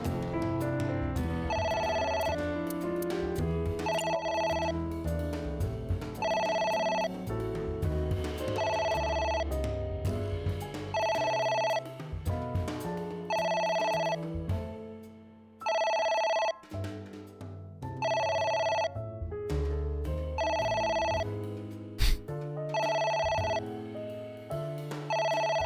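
Telephone ringing in the video game AI: The Somnium Files, a loud repeated electronic ring in regular bursts with a short gap partway through, over background game music.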